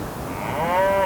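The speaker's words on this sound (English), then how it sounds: "That cow is persistent." Beef cattle low outdoors, a single drawn-out moo rising and swelling over about half a second, loud and fairly close against faint field noise.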